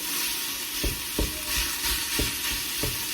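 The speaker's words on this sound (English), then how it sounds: "we're just going to brown this off a bit" Beef mince browning in a frying pan for chilli, a steady close sizzle with a few sharp scraping stirs of a spoon at regular intervals.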